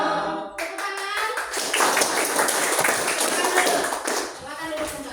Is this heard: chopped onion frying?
no